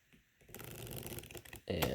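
Unsleeved Keyforge cards being riffle shuffled at close range, a quiet brief pause and then a dense fluttering burst, then a sharper snap as the cards bridge together.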